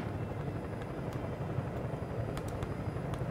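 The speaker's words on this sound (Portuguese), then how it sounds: "Vai acabar explodindo o helicóptero." Helicopter flying in the video game Far Cry, set in Vietnam, with a steady, loud rotor chop and engine drone continuing throughout, close and alone with no voices over it.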